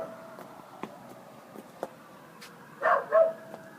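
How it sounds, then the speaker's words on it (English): A dog barks a couple of times at moderate distance, short yelping bursts near the end after faint scattered knocks and ticks in a quiet room. "Is that the doggy barking?"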